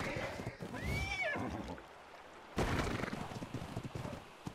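A horse whinnies in the game Ark Survival Evolved, a rising and falling neigh close by, followed by thudding hoofbeats and a loud burst of game noise.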